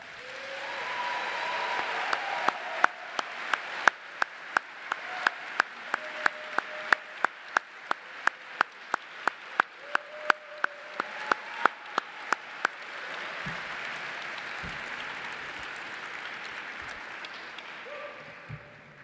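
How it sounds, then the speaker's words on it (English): Gala audience applause, a steady wash of clapping lasting over ten seconds with a few sharp, louder claps standing out before it fades into room noise. "I think we should all give them a round of applause."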